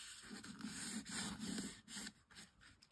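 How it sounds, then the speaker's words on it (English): Folds of a paper box being burnished, a soft continuous rubbing and scraping of a tool pressed along the creases, close and quiet. "I'm just going to give the folds a little burnish"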